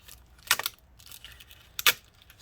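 A laptop keyboard's backlight layer is pried and peeled away from the keyboard of an HP Pavilion x360 14m-cd0003dx, producing two short, crisp crackling bursts of plastic separating amid near silence.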